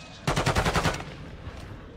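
Rapid automatic gunfire in a video game, a loud burst of about eight evenly spaced shots lasting under a second, then a fading tail and a faint later crack.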